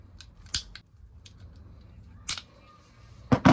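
Scissors snip through grass trimmer line while a line-trimmer spool is being rethreaded, giving a few sharp, close cuts spaced apart, the loudest near the end, over a quiet background.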